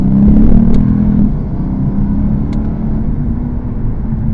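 The V8 of a Lexus RC F accelerates in second gear at part throttle on Fuji Speedway, a steady loud low rumble heard from inside the cabin, with no talking.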